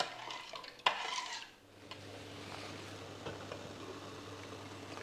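A honey marinade is stirred in a pot as it boils on the stove, giving faint scraping and clinking of a utensil against the pot with a quiet, steady bubbling hum underneath, with no talking.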